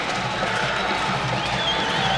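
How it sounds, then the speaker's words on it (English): A basketball arena crowd roars steadily for Hannah Hidalgo as she heads to the bench, a dense wash of cheering and clapping held at constant loudness for the whole moment, with no single voice standing out. "The crowd goes wild as she goes to the bench. Standing ovation for Hidalgo."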